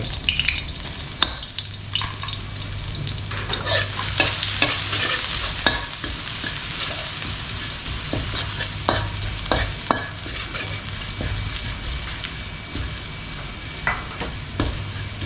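Pounded dried chili and garlic stir-fry in a wok, with a continuous loud sizzle broken by repeated scraping clacks of the spatula against the pan, and no one speaking.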